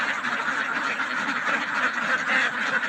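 A flock of ducks quacking continuously nearby, a dense overlapping chorus of nasal calls at steady loudness.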